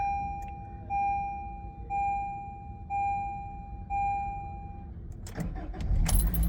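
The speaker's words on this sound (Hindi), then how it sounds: "अब गाड़ी करता हूँ मैं स्टार्ट।" Four evenly spaced electronic chimes ring over a low hum, followed by a rattle and the rumble of a car engine turning over and catching after an airbag warning light repair.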